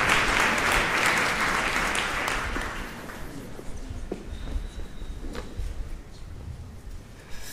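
Conference audience applauding to welcome keynote speaker Professor Dr. André Reichel on stage, full dense clapping that gradually thins out into scattered claps and stage footsteps.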